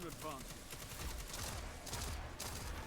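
Gunfire in a Destiny Crucible match, a dense fusillade of overlapping shots lasting throughout, loud and continuous, with speech over the top.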